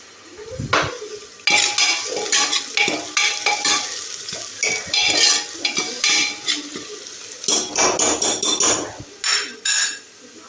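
Onions frying in a pan, browned to a deep red, with busy sizzling and repeated loud metal scrapes and clanks of stirring close by.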